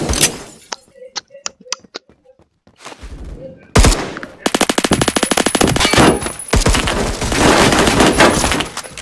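Gunfire in the Roblox shooter Phantom Forces: a string of sharp separate shots, then a pause, then sustained loud rapid automatic bursts, close and crackling.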